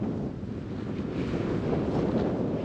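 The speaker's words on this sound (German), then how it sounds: "hoffe man hört mich durch den Wind" Strong, steady wind buffets the microphone on the Pacific Crest Trail between Wrightwood and Vasquez Rocks, a continuous low roar with gusts that swell slightly louder toward the end, and no other sounds break through.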